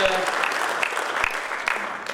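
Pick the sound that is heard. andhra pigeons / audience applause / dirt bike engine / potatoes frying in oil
audience applause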